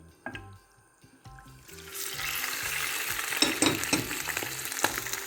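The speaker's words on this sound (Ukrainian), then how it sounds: "будемо смажити з двох сторін до такої золотистої скоринки до готовності" Chicken liver drops into hot oil and starts sizzling, the frying growing into a steady crackle with a few clinks of a utensil.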